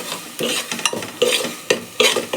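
Repeated scraping and stirring strokes as ground masala sautés in a sizzling pan, roughly one every half second, close and steady over a low frying hiss.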